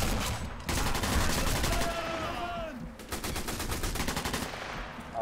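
Thompson submachine gun fire in the World War II shooter Sniper Elite V2, with loud, rapid automatic bursts broken by a short pause, close and sustained.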